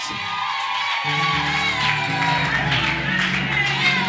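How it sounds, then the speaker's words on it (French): Guests at a couple's wedding blessing ceremony cheer, whoop and clap in a loud, sustained crowd roar, with music playing beneath the noise. "Est-ce qu'on peut acclamer?"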